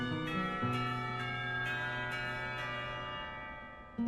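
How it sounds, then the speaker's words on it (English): A school lunch bell in Katawa Shoujo rings out as a sustained series of chiming bell tones with several struck accents, slowly decaying over a few seconds, with no talk over it. "The lunch bell rings, signaling a return downstairs."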